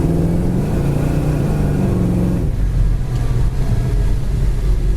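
A 1969 Chevy Chevelle SS with a four-barrel carburetor accelerates on the road, its V8 rising in a steady revving drone, then shifting to a rougher, deeper rumble partway through, heard close from inside the car.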